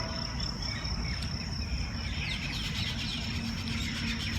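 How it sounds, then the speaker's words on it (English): Birds chirp in a park amid steady insect and cricket buzzing, with light tweets scattered through a constant outdoor hum and no one talking. "listening to the music of birds, watching them"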